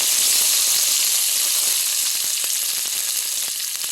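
Dried red chillies and curry leaves sizzle in hot tempering oil for an idli moong dal, after cumin has crackled: a loud, steady hiss of frying close by with scattered small pops throughout and no voices.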